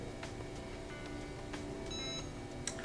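A Cricut EasyPress Go heat press sounds short electronic beeps when a fabric press finishes, faint and clear against a quiet room.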